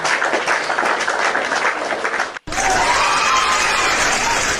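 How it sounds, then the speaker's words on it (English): Audience applause at a gathering, a dense, loud wash of clapping that cuts out briefly and then resumes just as strongly. "Let me clap for him now before you speak."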